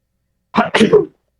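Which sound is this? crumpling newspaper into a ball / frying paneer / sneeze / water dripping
sneeze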